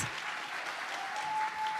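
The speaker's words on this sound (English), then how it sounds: "let's give a big round of applause for the other contestants on stage" Pageant audience applauding for the contestants, a dense steady burst of clapping from a large crowd.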